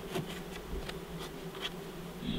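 Honey bees buzz around an open beehive, a close, dense droning hum with individual insects whizzing past in brief louder swells.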